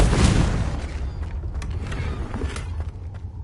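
A Confringo blasting spell in Hogwarts Legacy detonates with a single deep boom and creaking rumble near the start, then the game sound decays into low, moderate ambience.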